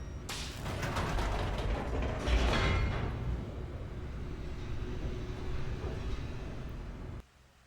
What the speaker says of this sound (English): Take this elevator.